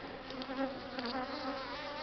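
A swarm of local honey bees buzzing in a continuous dense drone, steady and fairly close, with no voices over it.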